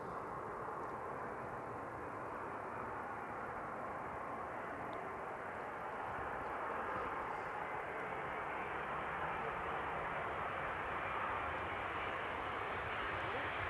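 A KLM Boeing 787-9 Dreamliner arrives at Amsterdam Schiphol. Its broad, continuous jet roar holds a steady, loud level for the whole stretch, with no other distinct sounds standing out.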